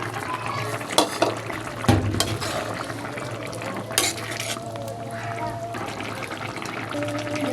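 Fish going into a pot of simmering potato and eggplant curry, with a soft sizzle and bubbling under stirring and a few clattering knocks against the pan.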